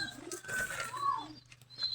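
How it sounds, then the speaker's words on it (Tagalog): Soft pigeon coos rise and fall amid light outdoor background noise, with a low steady hum underneath. "kalapati yan"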